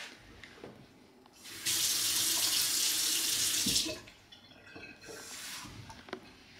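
Cold water running from a tap while making espresso, a steady loud hiss that starts abruptly, holds for about two seconds and stops, followed by a softer second burst, close by and with no talk.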